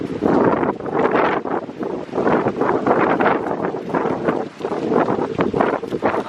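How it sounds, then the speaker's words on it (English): Strong wind buffets the microphone in a steady, roaring gust that surges and dips continuously, loud throughout with no talk. "Oh my goodness, look at the wind."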